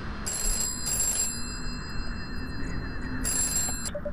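A telephone in a video game rings with two bursts of bright, trilling bell tones separated by a pause, heard over a low steady background hum.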